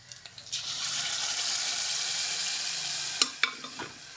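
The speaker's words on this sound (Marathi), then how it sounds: "मी आता वरणाला फोडणी देते" Tempering (phodni) with turmeric poured into cooked dal with tomato and chillies, a sudden loud hissing sizzle that flares up after a few light taps, holds steady for nearly three seconds, then fades into clinks of a utensil.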